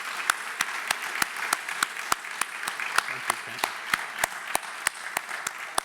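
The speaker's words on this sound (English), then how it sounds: "A round of applause." At an Empire Club of Canada luncheon, the audience claps for the newly named CEO, a steady run of sharp, evenly spaced hand claps over a soft background, with a brief spoken thanks in the middle.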